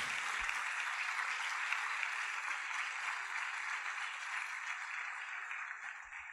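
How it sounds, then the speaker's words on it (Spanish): Steady, dense applause from a church congregation during a service, honoring those following online; the clapping stays loud and unbroken throughout before tapering slightly at the end. "Podemos darles un aplauso a todos quienes están de manera virtual en este momento siguiéndonos"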